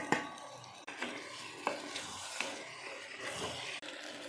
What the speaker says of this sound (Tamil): இந்த ஸ்டேஜில் நம்ம தக்காளி சேர்த்துக்கலாம்